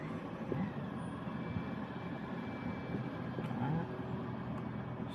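Engine of a 2020 Toyota Corolla Hybrid running steadily just after starting, a continuous low idle hum, close and even, with no talking.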